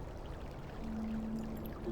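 A fountain in the game The Black Mirror III splashes and trickles steadily, a soft, continuous pouring wash at low volume with no voices.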